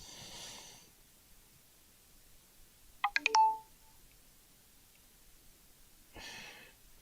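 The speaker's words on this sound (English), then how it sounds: "I just heard a message on the phone." A short chiming notification tone from a phone sounds alone after a stretch of quiet outdoor night ambience, a few quick bright notes, with faint breathing or rustle before and after.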